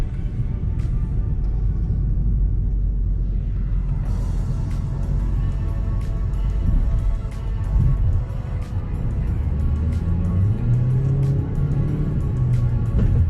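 Steady low engine rumble inside a Ford Focus cabin in slow traffic, continuous and fairly loud, with faint clicks and a slight rise in pitch toward the end.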